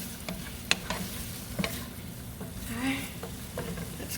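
Garlic paste stirred into pasta and vegetables frying in a pan, a soft sizzle under scattered scraping clicks of the spoon, fairly quiet and close.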